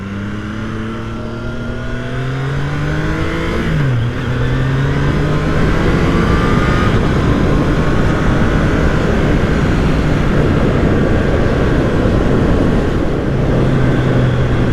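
Steady roar of wind buffeting and engine drone while riding a 2022 Triumph Tiger Sport 660 motorcycle fitted with a Powerbronze windscreen, loud and continuous throughout with a slight pitch shift as the engine changes speed.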